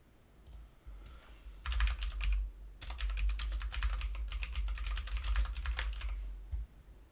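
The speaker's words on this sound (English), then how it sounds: "So I'm gonna go ahead and type that in." Steady typing on a computer keyboard, close and moderately loud, with dense rapid keystroke clicks in two bursts separated by a short pause, and no talking.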